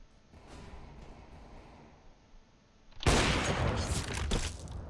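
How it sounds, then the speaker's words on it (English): A flashbang grenade goes off in a first-person shooter, a sudden loud bang that cuts in midway and leaves a sustained bright roaring ring after quieter game ambience. "Throwing a flashbang."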